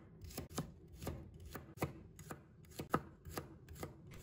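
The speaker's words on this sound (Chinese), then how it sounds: "把它切成蒜片。" Knife slicing peeled garlic cloves on a cutting board, about a dozen crisp, evenly spaced chops heard up close in a quiet room with no talk.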